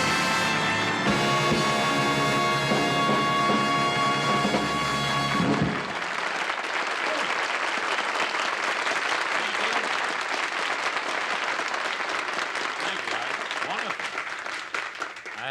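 A studio audience at The Kraft Music Hall breaks into loud, sustained applause that swells after a musical fanfare and holds steady for over ten seconds, the clapping dense and continuous.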